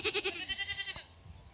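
A pregnant goat giving birth lets out a quavering, repeated bleat, faint and close, followed by a soft rustle.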